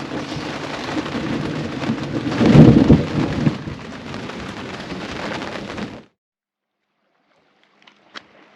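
Thunderstorm at evening over an anchorage in the Ionian, with steady rain and a loud rolling thunderclap peaking early, then silence broken by a faint distant crack near the end.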